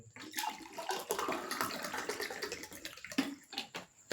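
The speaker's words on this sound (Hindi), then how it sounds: "तो ये रहा हमारा ग्लास और इसमें हम पानी डाल देंगे।" Water is poured into a drinking glass, a splashing, gurgling stream of moderate loudness running for several seconds in a quiet room, ending with a few drips.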